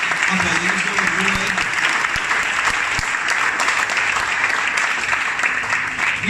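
A church congregation breaks into loud, sustained applause, dense and continuous clapping close by from start to finish, with faint voices mixed in.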